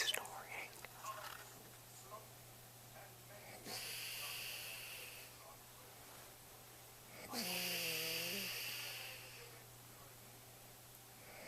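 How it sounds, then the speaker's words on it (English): A woman snoring nearby in a quiet room, with soft breathy rasps and one clearer, louder snore partway through against a steady low hum. "Do you hear that? She's snoring."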